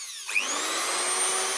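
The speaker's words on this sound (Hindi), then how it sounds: "ड्रिल को फिट कर देंगे और फाइनल टेस्ट करेंगे" A repaired electric drill spins up on a final test run, the motor rising quickly to a steady high whine and holding there, close and alone.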